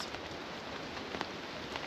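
Steady rain patters on a campsite during a storm, a soft even hiss of drops with no voices.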